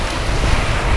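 Sea waves surge and wash steadily onto the shore at Teluk Bayu beach in Kayu Menang, Aceh Singkil, a loud, continuous roar of surf mixed with wind noise on the microphone.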